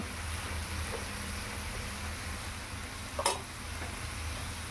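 Bottle gourd is stirred and sautéed in a pan for lau shukto, with a continuous low sizzle and one sharp scrape of the spatula partway through; no one speaks.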